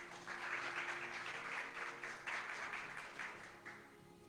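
Faint applause from a church congregation during a Spanish-language sermon, a soft, continuous patter of many hands that swells and eases over a few seconds, heard without talking over it.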